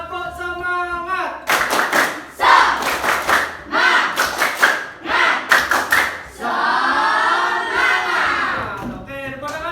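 A classroom of students performs a rhythmic spirit clap, bursts of loud, sharp group clapping in patterned beats broken by short gaps, with children chanting and shouting between and over the claps.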